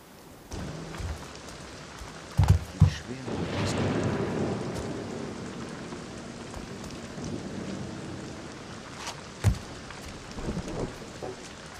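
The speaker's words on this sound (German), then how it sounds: "der Regen ist echt gut animiert" Rain in the stealth video game Thief patters steadily, with heavier thunder-like rumbles and a few sharp knocks standing out against the continuous downpour.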